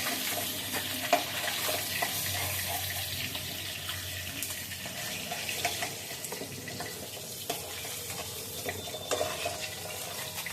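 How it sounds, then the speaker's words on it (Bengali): Fish frying in oil in a home kitchen, a continuous close sizzle with scattered pops and clinks over a watery hiss, no talking. "মাছ ভাজা হয়ে গেছে বন্ধুরা ভালো করে দেখে নিন"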